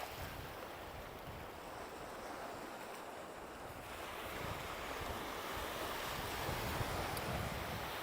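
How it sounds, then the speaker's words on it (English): Ocean surf rolls steadily onto a secluded surfer beach at sunset in Wakayama, Japan, a continuous roar of breaking waves with wind buffeting the microphone, growing louder and fuller in the second half. "We will have to go a bit further from the waves because they're a bit noisy."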